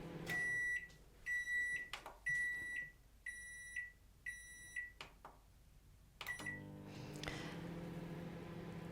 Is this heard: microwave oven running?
yes